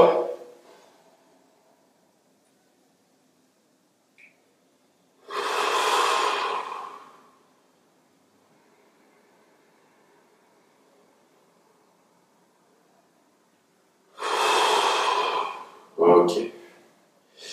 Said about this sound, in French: j'inspire en face de mes mains. Donc, bas du ventre, estomac, milieu de la poitrine, région claviculaire, et j'expire